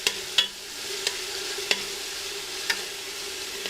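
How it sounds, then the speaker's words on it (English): Garlic sizzling in hot olive oil in a pan during Italian ribollita cooking, a steady close frying hiss punctuated by a few sharp clicks and taps of a stirring utensil against the pan. "Oil's getting hot. Nice sizzle. Nice sizzle."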